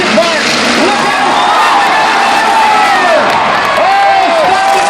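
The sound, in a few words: crowd cheering at a demolition derby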